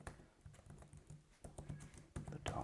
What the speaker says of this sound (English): Let's do a typing feel test here.